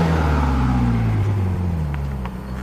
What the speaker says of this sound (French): Alors là, on a une Ferrari California